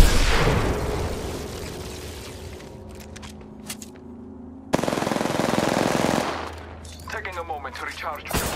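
Heavy automatic gunfire in an Apex Legends match roars in sustained bursts with decaying echoes and a sharp renewed volley, followed by lighter scattered shots and clatter.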